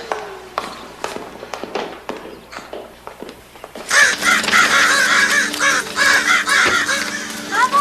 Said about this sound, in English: He's gonna scare away the birds.